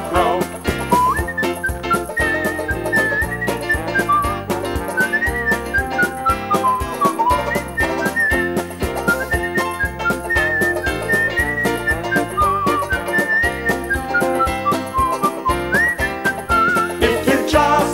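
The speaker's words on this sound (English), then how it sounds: "Just whistle a happy song" A bright whistled melody carries over steady musical accompaniment, its notes gliding and held, continuous and fairly loud throughout.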